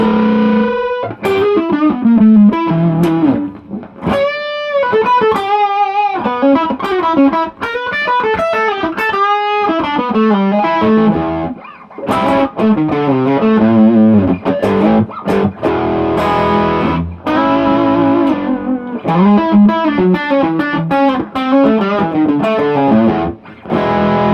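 A heavily overdriven electric guitar through a Mesa amp, drive and level fully up, plays loud, sustained distorted rock chords and melodic lines continuously, thick and saturated, with no talking.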